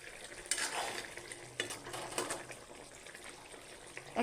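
Bitter gourd cooks in a pan, a soft frying sizzle under repeated quiet stirring scrapes, faint and close, with no talking.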